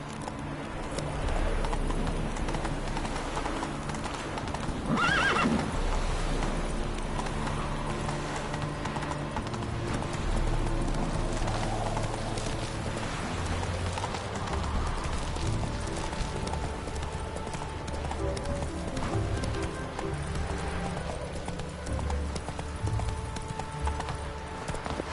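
Roach the horse in The Witcher 3 trots with a steady, continuous clip-clop of hooves, joined by a brief whinny and neigh near the five-second mark, heard close and fairly loud over game ambience throughout.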